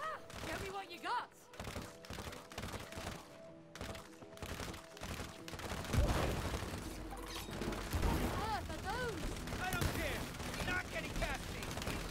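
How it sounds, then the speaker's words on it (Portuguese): Gunfire in the co-op video game It Takes Two, heard as repeated sharp shots and bursts within a busy, dense game mix of effects and music, with people talking over it. "Ah, virou jogo de tiro agora."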